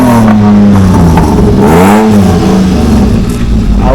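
An old Wagon R car engine running in a garage, loud and close, with the pitch rising and falling through several revs before settling into a steady hum.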